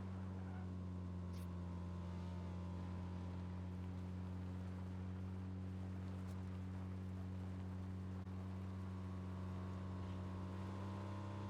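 A motorbike engine drones steadily and close while riding in the video game PUBG, holding a constant low hum with faint higher whines throughout.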